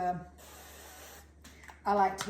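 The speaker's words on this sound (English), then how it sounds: "I'm just gonna lightly spray my dish" A soft, steady hiss of avocado oil cooking spray misting a casserole dish for about a second, with brief talk before and after it.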